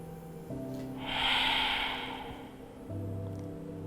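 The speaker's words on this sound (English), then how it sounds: "just keep that regular breathing going." Slow, steady breathing during a Dirga breathing exercise: one soft, airy breath swells and fades over a couple of seconds, close and quiet over a low background hum.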